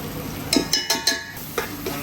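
Masala with tomato is stirred while frying in a pan for a Kerala-style chicken parts curry: a series of sharp scraping clacks of a spoon against the pan over a soft sizzle, close by.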